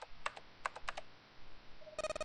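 Soft clicky keyboard typing in the puzzle adventure game 999: Nine Hours, Nine Persons, Nine Doors, scattered keystrokes followed by a quick run of bright electronic beeps at the end, quiet and without talk.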